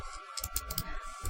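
A quick burst of computer keyboard keystrokes, a few close, soft clicks in rapid succession for a keyboard shortcut.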